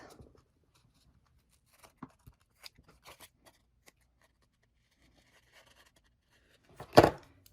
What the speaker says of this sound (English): And you cut your little edges.